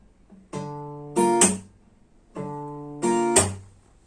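Fingerstyle acoustic guitar plays a pattern twice: plucked notes from the fifth string up, each run closed by a crisp percussive slap on the strings, close and clear with no talking.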